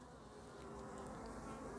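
Honey bees buzz steadily around a newly established hive during a spring check, a dense, continuous drone close by with no voices.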